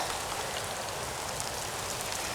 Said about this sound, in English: the rain has kicked up a little bit